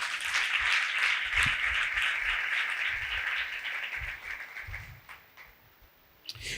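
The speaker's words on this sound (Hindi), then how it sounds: "उनके लिए ज़ोरदार तालियां बजाएं।" Sustained audience applause from a church congregation at a sermon on family, a dense steady clapping wash that fades toward the end.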